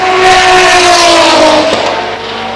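Holden Commodore race cars on a circuit during an endurance series race sweep past in a loud, continuous engine roar with sustained harmonic whine, fading slightly toward the end as they move away.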